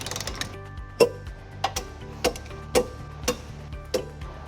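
An 18mm socket on a ratchet torques trailer hitch hardware on a 2022-2025 Subaru Outback Wilderness, making six distinct metallic clicks spaced about half a second apart, close and fairly loud, with no talking.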